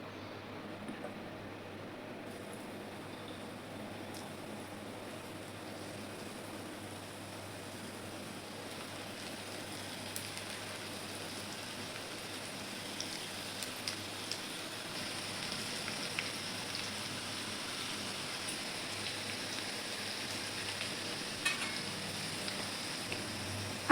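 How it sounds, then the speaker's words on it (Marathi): Okra frying in hot oil for a crisp dry bhindi dish, a soft steady crackling hiss that stays faint but constant throughout, with small pops rising now and then. "तेल गरम झालंय. आपण आता भेंडी पण तळून घेऊ."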